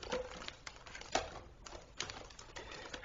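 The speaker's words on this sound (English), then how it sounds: "I'll get out a knife for this since it's all taped up." A knife slices through packing tape on a mailbag parcel, making quiet bursts of scraping, tearing and tapping at close range with brief pauses between strokes.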